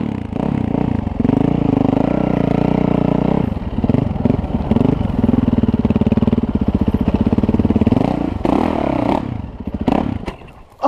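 A new 450 dirt motorcycle engine runs loud and close, blipping and revving in uneven bursts with a throaty rasp before the revs drop away near the end.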